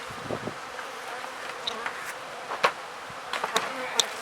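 Honey bees buzz around an opened beehive during an apiary inspection, a steady faint hum with a few louder passes of individual bees near the microphone and no talk.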